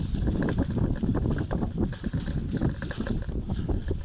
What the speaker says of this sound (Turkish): esinti var. Kulaklığıma böyle etki yapmış şu an.